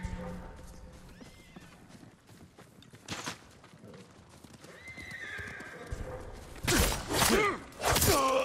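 A horse neighs loudly, several whinnies close together near the end, and hooves clop on the ground earlier, in the video game Ghost of Tsushima, over low background ambience and distant game sounds.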